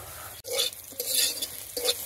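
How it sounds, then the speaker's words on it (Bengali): Eggplant slices frying in a pan, with a sharp clatter of stirring and scraping over a bright sizzle, close up and without speech. "আমার বেগুন ভাজা হয়ে গেছে নামিয়ে নিই"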